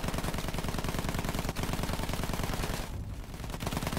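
Rapid machine-gun fire aimed at a plane in Battlefield 1 rattles on continuously and loudly, breaking off briefly near the end before the bursts resume.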